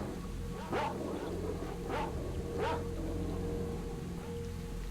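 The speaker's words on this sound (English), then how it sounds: "They're blind dogs." Blind mutant dogs in S.T.A.L.K.E.R. Shadow of Chernobyl give three short evenly spaced barks at moderate distance over a steady low game ambience.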